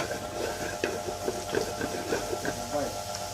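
Tomatoes dropped into hot oil for a tomato tenga fish curry, stirred with a utensil; a steady close sizzle runs throughout with repeated scraping stir strokes under a voice speaking.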